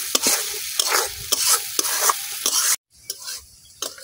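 Dried shrimp stirred with spices in a pan, a steady close sizzle broken by repeated sharp scrapes of a spatula in an uneven rhythm, with a brief pause near the end before the stirring resumes.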